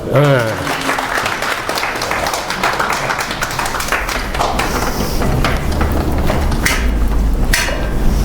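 A room full of people applauds, steady dense clapping that continues throughout after a brief voice at the very start.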